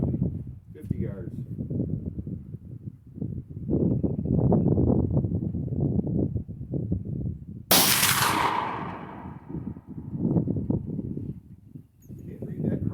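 A single loud report from a Henry Brass 45-70 Side Gate rifle loaded with top-level Marlin charges, fired at a 50-yard target outdoors, cracks out sharply in the middle amid ongoing talk.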